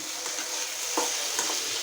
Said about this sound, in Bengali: সেই কাঁটাটাও এটার ভিতরে দিয়ে কষিয়ে নিচ্ছি